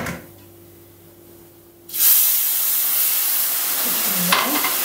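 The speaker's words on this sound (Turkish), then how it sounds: "Şimdi üzerine şöyle sıcak su ekleyeceğim." A sudden loud sizzle bursts out as hot water hits star-shaped vermicelli toasting in a hot pan, then a steady hiss continues, with a brief clink near the end.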